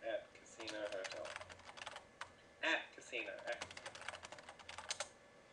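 Fast bursts of clicking on a computer keyboard while entering commands into the text parser of the Leisure Suit Larry 1 adventure game, with someone talking over the keystrokes.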